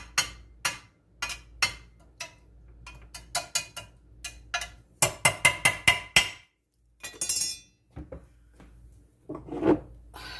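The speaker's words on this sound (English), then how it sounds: "We're going to put in some Parmesan cheese. Grate it." A block of Parmesan cheese is rubbed against a grater in a series of short, rasping scrapes, some spaced apart and others in quick bursts, close and fairly clear.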